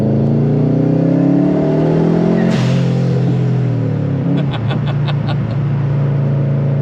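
A Subaru Impreza GC8 accelerating on the Nürburgring track: a loud, close engine note climbs steadily, drops briefly at a gear change, then pulls up again alongside a few light clicks near the end.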